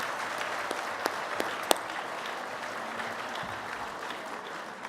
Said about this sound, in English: How about a big round of applause for all of them?